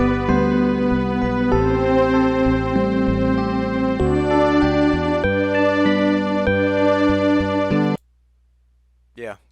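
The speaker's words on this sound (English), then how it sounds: "there's supposed to be a really sweet MIDI, and it sounds something like this." Bright synthesized MIDI tune from an old BlitzBASIC game project, loud and melodic with shifting chords for about eight seconds before it cuts off abruptly into near silence.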